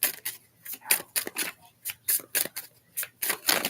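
Tarot cards are shuffled by hand in quick, rhythmic crisp riffles, close and repeated without pause.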